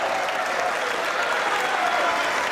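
Snooker crowd at a World Championship first-round match applauding steadily, a dense unbroken wash of clapping heard close and full throughout.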